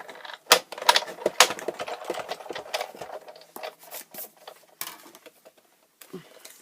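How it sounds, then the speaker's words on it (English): Scissors snipping through a first section of material, a quick run of sharp clipped cuts and rustles, close and fairly loud, with short pauses between strokes. "So you're just going to cut the first section off."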